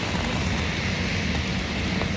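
Steady rain falls in New York City, a continuous even hiss and patter with no pauses and no voices.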